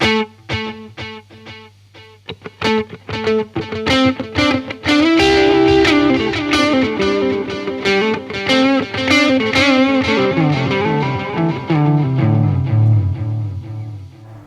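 An electric guitar runs through a UAD Starlight Echo Station delay set to quarter-note and dotted-eighth repeats, with loud plucked notes and chords trailing into dense, overlapping echoes that build into a thick, distorted wash.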